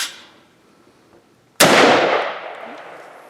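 A single sharp gunshot from a MARCOLMAR CETME rifle cracks loudly and close, its blast ringing and decaying over a second or so after a quiet lull.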